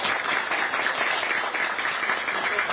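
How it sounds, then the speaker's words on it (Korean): Crowd applause at a Democratic Party field meeting in Anseong, Gyeonggi, a dense steady wash of clapping from a large audience, moderately loud and continuous throughout. "박수 한번 부탁드립니다"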